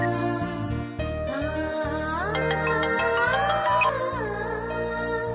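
A mobile phone ringtone plays a bright melodic tune over a steady backing while a call is placed, loud and continuous throughout, with no talking.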